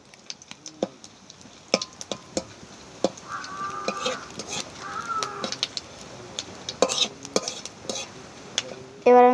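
Panch phoron, cumin, cardamom and bay leaves are stirred in hot oil in a pan for Bengali tel koi fish curry, with irregular close metallic clinks and scrapes over a light sizzle, and faint chirping tones in the background.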